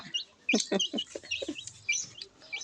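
Chickens cluck and chirp around a rural farmhouse in northeastern Thailand, several close, busy clucks in an uneven rhythm over faint background noise.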